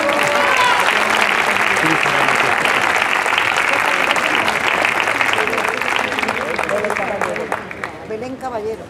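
A crowd at a copla singing contest final in Bailén gives a singer a loud, sustained ovation of dense clapping, with shouts and voices rising through it as it slowly fades near the end.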